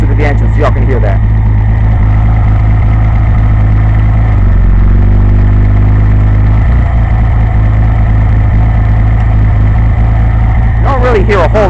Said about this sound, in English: Let me put the microphone closer to the engine so y'all can hear that